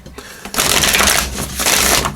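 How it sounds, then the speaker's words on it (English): Oracle cards shuffled by hand in a pick-a-card reading, close and loud, a dense riffling rustle in two or three quick bursts with short pauses between. "Let's give it 3 shuffles for the power of 3."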